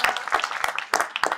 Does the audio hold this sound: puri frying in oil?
no